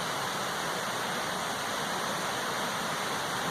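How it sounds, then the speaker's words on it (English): Continuous rushing water, a steady broadband wash of a creek flowing nearby at the base of Mount Moosilauke on the Appalachian Trail, with no voices or other sounds. "I'm currently stealth camped right by a gorgeous creek,"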